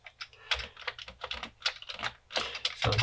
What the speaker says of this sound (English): So the keys are kind of working, but you're going to have to press them really hard.